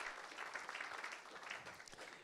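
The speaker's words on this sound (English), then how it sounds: "I'd like to ask for another round of applause to Nelson" A small audience claps for Nelson at a live-streamed gathering, the applause quiet and steady for a couple of seconds with no one speaking over it.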